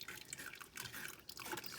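Red chili sauce for pozole drips and trickles through a kitchen strainer, making soft, irregular wet drips and small splashes up close.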